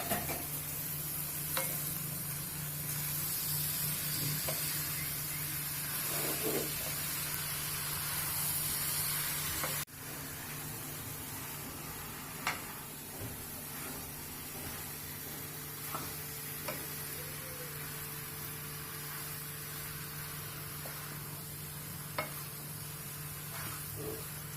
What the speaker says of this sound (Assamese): ভজা হোৱাৰ পিছত মই এতিয়া আপোনাৰ কঁঠাল আৰু আলু এইখিনি দি দিম